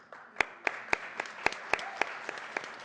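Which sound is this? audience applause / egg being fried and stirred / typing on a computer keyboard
audience applause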